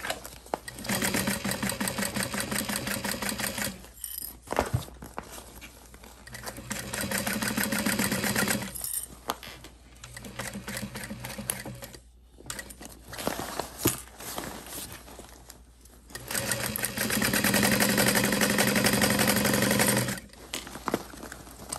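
A sewing machine stitches a handbag in long runs of steady, rapid mechanical chatter, close and loud, broken by short pauses between seams.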